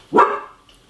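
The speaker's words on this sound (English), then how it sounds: "She's barking at a wall right now." A single sharp dog bark sounds close and loud indoors, decaying over about half a second, with only quiet room tone after it.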